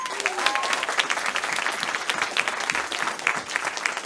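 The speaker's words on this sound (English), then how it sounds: "So please, I need you to give a round of applause and a big thank you" An audience at the Tracton's Got Talent 2023 show applauds the organising team, with crisp, irregular hand claps from a modest-sized crowd in a hall, steady and moderately loud, with no talking over it.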